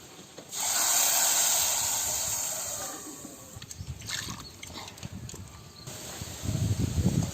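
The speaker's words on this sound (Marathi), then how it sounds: "बघा मस्त चरचरते" Garlic and ground masala paste hit hot oil with a loud, sustained hiss that slowly settles into crackling sputters, then swells again toward the end, close and steady with no talking.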